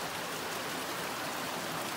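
Steady flowing water of the Rattle River beside a tent site on the Appalachian Trail, a continuous broadband rush heard up close and alone, with no voices.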